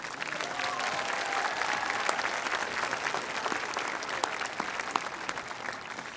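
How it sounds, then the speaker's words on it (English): A large graduation crowd gives sustained, even applause, dense and continuous with scattered sharp claps standing out throughout. "Graduates, let's give this great support system a round of applause."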